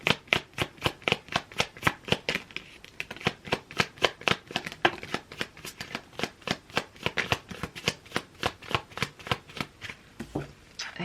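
A deck of tarot cards is shuffled over and over, a fast, even run of crisp riffling flaps close up, continuing steadily with no talking.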